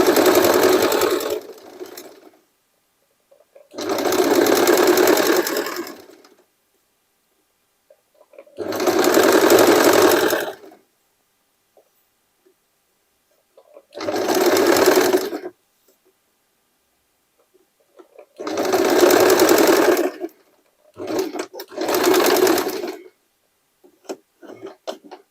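An overlock sewing machine stitches a denim jacket made from old jeans, running in six short loud bursts separated by silent pauses, close by with no talking.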